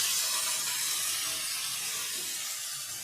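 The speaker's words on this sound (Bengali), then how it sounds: "এরপর কেটে রাখা এই সবজিগুলোকে আমি কড়াই দিয়ে দিচ্ছি।" Chopped beetroot, carrot and beans hiss and sizzle steadily in a hot wok, a continuous broadband frying sound at moderate level with no talk.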